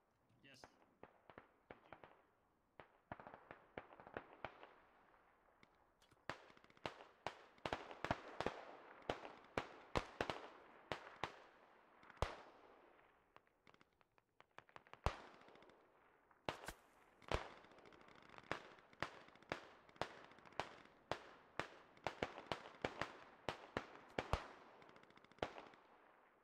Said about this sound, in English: Steady, intermittent gunfire due west of me.